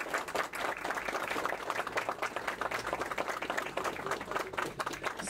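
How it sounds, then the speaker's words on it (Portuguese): Applause at the inauguration of a health clinic, with many people clapping in a lively, rhythmic patter of distinct claps that carries on steadily from start to finish. "Então, uma salva de palmas."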